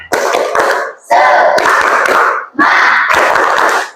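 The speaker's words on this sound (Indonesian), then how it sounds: "Tepuk semangat." Elementary schoolchildren in a classroom do a rhythmic clapping chant, shouting together in three loud bursts with sharp hand claps and brief pauses between them.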